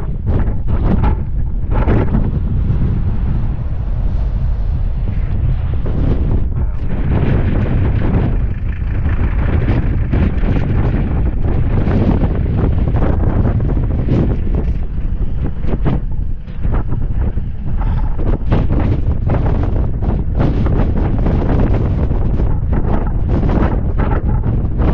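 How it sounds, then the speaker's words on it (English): Strong wind howls and buffets the microphone atop a 14,000 ft mountain road, a loud, continuous roar with gusty surges throughout and no talking. "It is like really howling up here. It is very windy."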